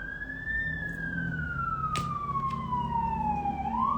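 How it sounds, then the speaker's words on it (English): A single emergency siren wails outside, one long tone slowly falling in pitch over a low rumble of traffic, at moderate distance with no voices. "Sorry for the sirens."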